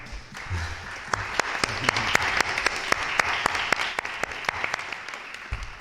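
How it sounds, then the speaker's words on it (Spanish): A conference audience applauds after the speakers' talks, a steady patter of many hands with a few sharper, closer claps standing out in an even rhythm, fading slightly toward the end. "les damos un fuerte aplauso por sus intervenciones"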